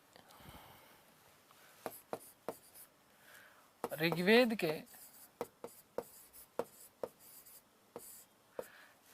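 Chalk or marker writing notes on a board during a history lecture: sharp, irregular taps and short strokes, close and fairly quiet, with a brief stretch of someone speaking in the middle.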